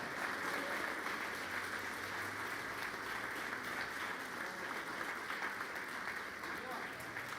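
A church congregation at a Sunday service applauds in a continuous, even wash of clapping that holds steady throughout, moderately distant, with murmured voices blended underneath.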